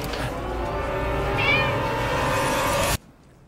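A cat meowing in a drawn-out, loud, close cry that ends abruptly, with no speech over it.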